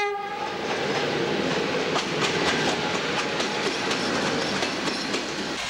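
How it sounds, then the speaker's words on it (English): A train at Sinaia railway station in Romania rumbles past with loud, steady wheel clatter and a brief horn at the start, close by and continuous. "Sinaia train station"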